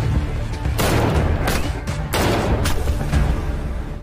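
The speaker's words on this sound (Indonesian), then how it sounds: "Pada awalnya, Ye-jae terkena tembakan" Shotgun fire in the film Death's Game, loud booming blasts in rapid succession, roughly five heavy bursts over a dense, noisy background.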